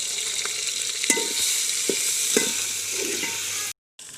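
Close, steady sizzling of ginger-garlic paste frying in hot oil, with occasional stirring clinks and scrapes, ending abruptly in a brief silence.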